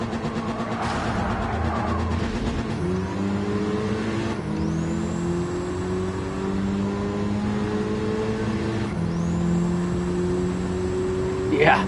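Race car engine in a racing video game, revving steadily with rising and shifting tones and sustained throughout under background talk.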